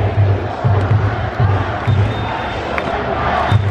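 At a Korean baseball game, the Doosan Bears cheer squad leads a large crowd in rhythmic chanting. Loud, pulsing group shouts repeat over the constant roar of a packed stadium.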